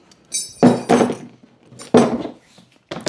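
A heavy hammer strikes a punch through a leather belt laid on a cutting mat or scrap wood, giving about four sharp, close knocks at an irregular pace with quiet gaps between them.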